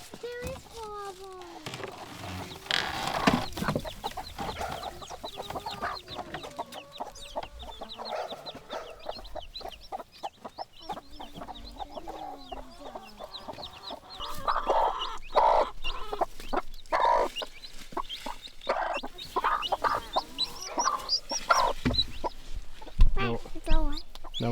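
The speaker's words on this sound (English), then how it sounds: "So we got a bunch of chickens in here." Chickens clucking inside a coop in winter, close soft clucks and occasional squawks running throughout, with people talking over them.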